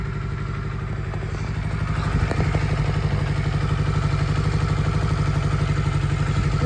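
A Honda CM125 motorcycle engine running on only one cylinder: a steady, close, rhythmic rumble with uneven pulsing beats, growing slightly louder and fuller about two seconds in and holding there.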